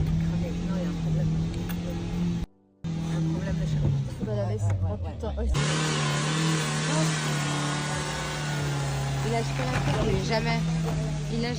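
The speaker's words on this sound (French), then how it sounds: "Là, on est en train de stationner la voiture" A car being driven and then parked, its steady mid-pitched engine hum running throughout with a brief cut, and people talking over it in French.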